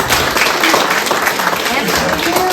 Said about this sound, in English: Can we give another round of applause for our mayoral candidates and for our councilors-elect?